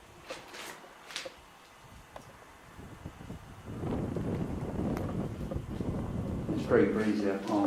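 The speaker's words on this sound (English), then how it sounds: "It's very breezy, I can't, it's too windy in there." Wind gusts buffet the microphone at night around a WW2 control tower, building into a strong low rumble midway, with faint voices underneath.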